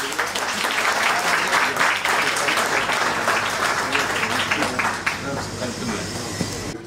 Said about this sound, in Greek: Ένα μεγάλο χειροκρότημα.